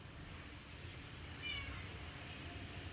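A house cat gives a faint, brief meow about midway through, quiet and somewhat distant over low room noise.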